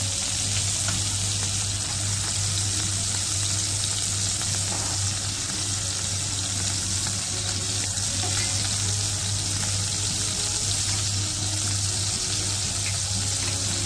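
Fifty grams of butter melts in a pan for a cashew butterscotch pudding, giving a loud, constant sizzle and fry that runs unbroken throughout, with no voices.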